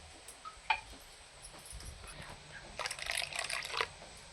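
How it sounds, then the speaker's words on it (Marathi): Water is added to cucumber ghavne batter and stirred, heard as a few faint splashes and small taps followed by a louder swirl of liquid in a bowl. "साधारण मला घट्ट वाटत आहे म्हणून थोडंसं पाणी अजून टाकून घेते"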